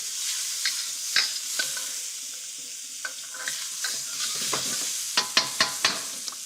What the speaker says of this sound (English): I'm going to fry a little bit of the wheat and the barley and the brown rice that we saved